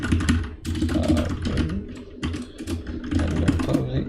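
Fingers type code on a computer keyboard, a quick run of close, crisp key clicks in bursts with short pauses.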